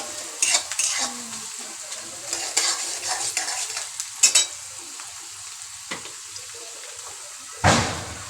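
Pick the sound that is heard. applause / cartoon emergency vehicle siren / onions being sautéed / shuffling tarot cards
onions being sautéed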